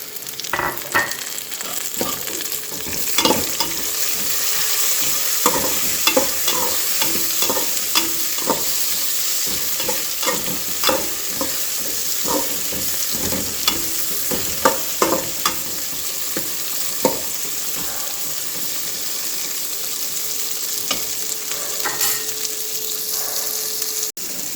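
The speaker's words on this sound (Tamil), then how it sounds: "இதில் நம்ம வெட்டி வச்சுருக்கிற தக்காளி சேர்த்துக்கலாம்." Chopped tomatoes sautéing with onions in a pan, a constant close sizzle broken by frequent scraping and clattering stirs throughout.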